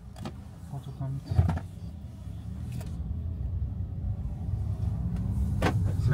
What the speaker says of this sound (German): Auto kommt.